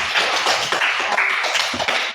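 Classroom of pupils clapping together, a busy, dense patter of many hand claps at close range, continuous and fairly loud throughout.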